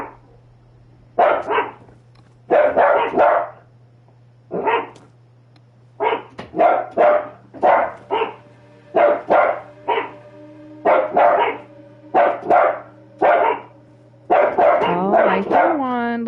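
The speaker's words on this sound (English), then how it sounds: "You're not gonna do anything by barking from the window inside the house." A dog barks repeatedly from a window inside a house, in loud, close bursts of several barks separated by short pauses, over a steady low hum, ending in a whining yelp.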